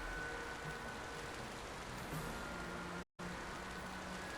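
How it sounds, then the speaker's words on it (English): Steady rain from the video game Final Fantasy 12, an even wash of falling drops that stays constant and moderately loud, broken only by a brief silent dropout near the end. "the rain in game almost mimics the rain in real life"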